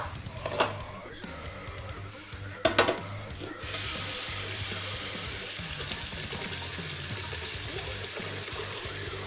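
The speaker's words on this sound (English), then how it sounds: "So we're going to fill this up with some water." Tap water runs steadily into a pot in a home kitchen, with a few clatters at first, then a continuous hissing stream that is moderately loud and close.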